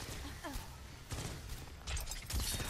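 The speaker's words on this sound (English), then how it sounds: "Are you guys being shot at?" Bursts of video game gunfire crackle in a few sharp clusters, moderately close, mixed with a voice talking during an online shooter match.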